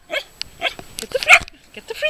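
Shetland sheepdog puppy gives a few short yips and barks close by while playing with a frisbee, interspersed with a person speaking encouragingly.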